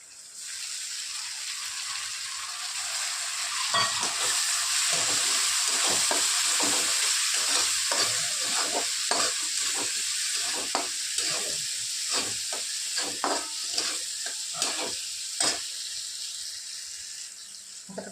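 Onion-garlic masala, chili powder, hing and dal sizzle in a hot pan while a spoon stirs, giving a steady close fry hiss broken by repeated scraping strokes. No one speaks.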